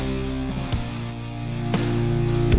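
Modern hard rock with heavily distorted guitars, pounding drums and dense, loud chugging low end, dense and continuous throughout with no speaking voice.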